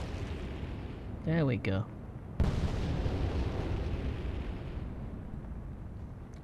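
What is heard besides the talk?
torpedo explosions in Atlantic Fleet video game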